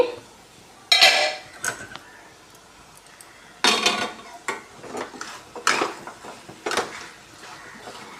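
Drumstick masala curry is stirred in a pan on a low flame, with sharp irregular scrapes and clinks of a utensil against metal over a soft background sizzle, coming in several separate bursts.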